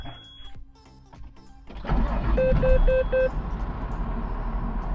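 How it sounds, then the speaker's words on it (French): Farm tractor engine starts with a sudden loud rumble after quiet handling noises, then settles into a steady, close, low idle with a brief tonal beeping over it. "on démarre le tracteur."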